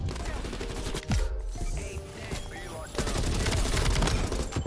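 Rapid bursts of M4 rifle fire fitted with a 40-round magazine in Call of Duty Black Ops Cold War, loud and close, in quick strings broken by brief pauses.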